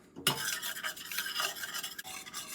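A butter and flour roux is stirred steadily in a pot for crawfish étouffée, giving a continuous close scraping swish that begins abruptly and keeps a busy, even texture with no talking.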